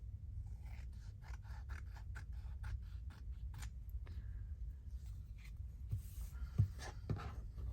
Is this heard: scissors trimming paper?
yes